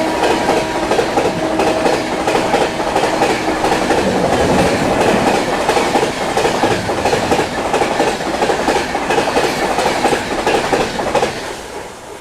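The 22812 New Delhi–Bhubaneswar Tejas Rajdhani Express rushes past at 130 km/h, a loud sustained roar of coaches with steady clickety-clack and a faint whining tone, easing slightly at the very end.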